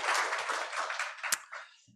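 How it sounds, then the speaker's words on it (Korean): A church congregation applauding during a Sunday worship service, a dense burst of many hands clapping together that gradually fades away within a couple of seconds. "우리 하나님께 영광의 박수 올려드리겠습니다"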